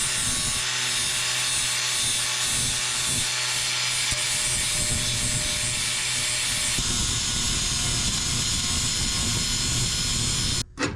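Parts that fit around a car's exhaust tip are scrubbed by hand in a continuous close rubbing and scraping for about ten seconds, ending in a brief clatter, with no talk.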